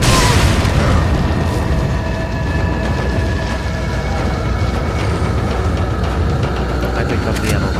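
A rocket launcher fired point blank in Resident Evil 4 on PS4 sets off a loud, booming explosion at the start, followed by a dense, rumbling roar of game noise that stays loud throughout.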